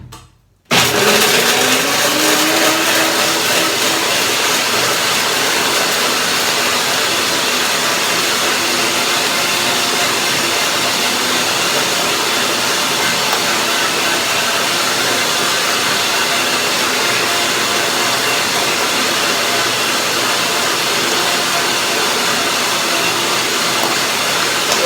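A blender runs at high speed for nearly the whole stretch, mixing a coconut cashew cream seasoned with pepper and salt. It starts abruptly, its motor pitch sags slightly as it loads, then settles into a loud, steady, close whir.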